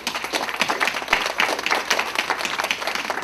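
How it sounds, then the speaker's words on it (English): Church congregation clapping during a sermon, a lively, dense burst of many hands applauding steadily and fairly close, with no talk over it. "Let's give the Lord a clap."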